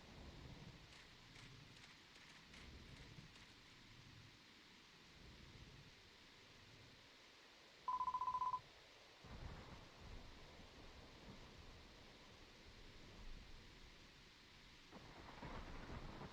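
Thunder and rain in the video game Dragon Quest X, a fierce storm raging outside a hideout: a faint, steady wash of rain with low rumbling throughout and a brief tone partway through.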